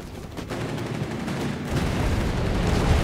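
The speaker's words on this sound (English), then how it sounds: "More shots fired." Dense, continuous gunfire from a Company of Heroes 3 match between DAK and USF forces, rattling volleys overlapping into a steady din that grows slightly louder toward the end, with no voices over it.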